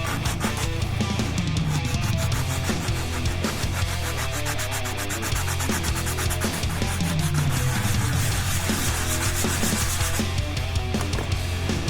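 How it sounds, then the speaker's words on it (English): Hand sanding with a piece of 120 grit sandpaper on a 1:350 scale Enterprise refit model saucer, continuous close scratchy rubbing in quick back-and-forth strokes, fairly loud, with no speech. "This is a piece of 120 grit."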